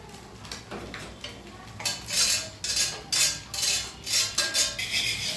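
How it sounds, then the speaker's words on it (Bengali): Utensil scraping and clinking against a pan as noodles are stirred over heat, a series of rhythmic bright scrapes growing louder, with a faint sizzle underneath. "নুডলসটা ঢেলে দিল আরাধ্যা, এখন নাড়াচাড়া করবে।"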